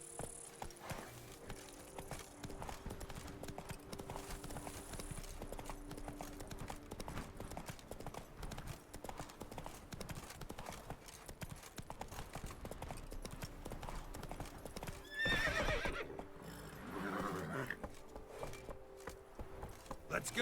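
In The Witcher 3, the horse Roach gallops with a steady, rhythmic clip-clop of hooves throughout, joined near the end by a burst of louder noise and a brief neigh.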